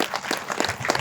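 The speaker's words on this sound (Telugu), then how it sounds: "ఒక్కసారి మేడం గట్టిగా క్లాప్ చేద్దామండి" Audience at a speech event in Bhimavaram claps together, a dense, steady patter of many hands filling a short one-second burst at moderate loudness.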